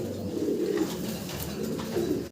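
A pair of white fillback pigeons in a home loft coo with soft, throaty rolling calls, close by, in two drawn-out phrases over a low background hum.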